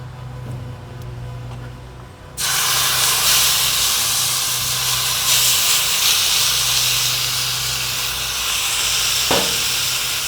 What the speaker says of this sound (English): threw some sauerkraut on the skillet over there